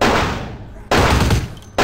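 Two loud Glock pistol shots from the video game Vampire the Masquerade Bloodlines, each a sharp close blast with a decaying tail, the second following just under a second after the first.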